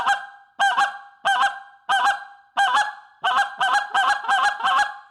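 Goose call blown in a rolling double cluck, around ten sharp honking notes in quick paired bursts, loud and close with no talking.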